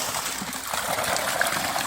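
A water pump runs in a village in the morning, sending a loud, continuous gush of water close by into buckets with a steady broadband rush and no pauses.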